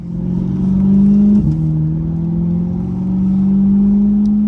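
A 2021 Chevrolet Corvette C8 engine hums steadily from inside the cabin as the car gathers speed, a smooth sustained drone that dips briefly at a gear change and then climbs again.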